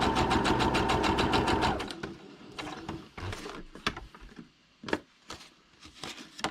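A sewing machine stitching through paper runs in a fast, steady, close mechanical chatter for a couple of seconds, then stops, followed by scattered clicks and handling noises.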